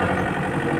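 A Kubota 4x4 tractor engine idles close by with a steady, low rumbling drone that holds throughout the short moment.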